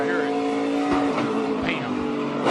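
NASCAR Cup Series race car crashing during a race, with engine roar, tire noise and a sharp impact thud, mixed with a commentator's voice talking over it.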